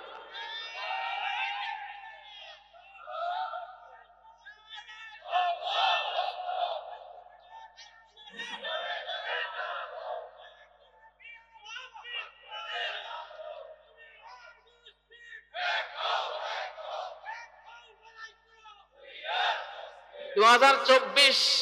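A crowd at a religious speech shouts takbir, Allahu Akbar, in loud waves of massed voices rising and falling, with a single voice calling out between the surges.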